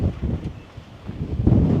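Strong wind buffets the microphone in low, rumbling gusts, rising and falling over a couple of seconds with no voices.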